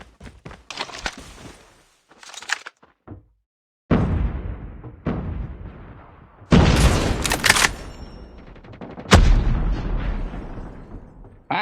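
Shotgun blasts in the mobile shooter Call of Duty Mobile, several loud, sharp booms spaced a few seconds apart, mixed with clicks and lighter game sounds between the shots.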